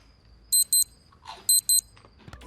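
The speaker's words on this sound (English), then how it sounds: "Sound the alarm!" Electronic alarm in The Amazing World of Gumball, two pairs of sharp high beeps with a short rustle between, clear and close with no talk.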